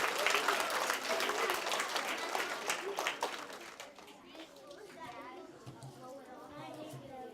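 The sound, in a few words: applause from a children's audience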